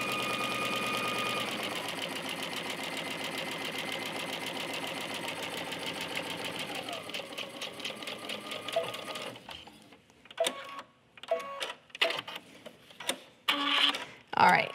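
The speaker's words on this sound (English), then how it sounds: "I'm gonna pivot at the corner and then sew across the bottom." A domestic sewing machine stitches steadily across the bottom of fabric for a garden knee pad cover, a close, continuous whirring run that slows and stops around nine seconds, followed by scattered clicks and handling noises.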